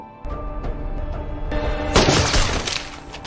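A sharp burst of sniper and other gunfire in a scene from the film Extraction, several cracking shots with a brief shattering crash, over a steady musical background.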